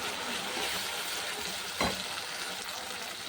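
Spice paste of cumin, ginger and green chili with tomato and a splash of water sizzling and frying in a pan for a fish curry, a steady crackling hiss with one brief louder splash or stir.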